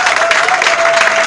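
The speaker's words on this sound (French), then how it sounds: "Alors applaudissez nos amis." Dense audience applause at a French-speaking political gathering, loud and continuous throughout with a faint steady tone running beneath.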